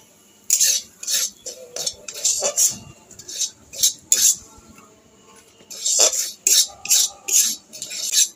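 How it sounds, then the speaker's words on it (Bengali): A spoon stirs semolina in ghee in a wok, giving close, rhythmic scraping and clinking strokes in short bursts separated by brief pauses. "সুজিটা আমি কিছুক্ষণ নেড়ে নিয়েছি।"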